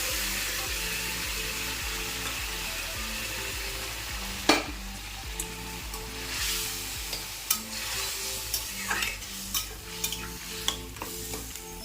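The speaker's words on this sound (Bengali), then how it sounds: "ভাজা হয়ে গেল, ছোলাটা দিয়ে দিয়ে এবার" Chickpeas fry in a pan with a steady soft sizzle, and a spoon scrapes and clicks against the pan now and then as they are stirred.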